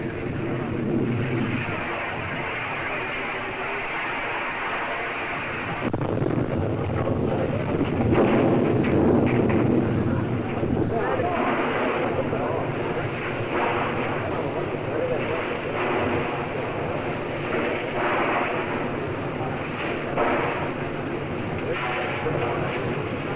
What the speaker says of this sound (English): as will be noticed by the sound from the vent before the roof tears loose